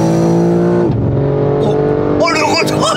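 A 912-horsepower BMW M3 engine roars loud and close, a steady harmonic drone that dips as the revs drop, then swells again with voices and excited talk over it.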